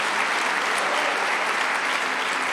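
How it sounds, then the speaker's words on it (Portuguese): A church congregation applauds, a dense, steady wash of clapping from a large crowd that holds at even loudness throughout. "Aplauda Jesus bem forte onde você está."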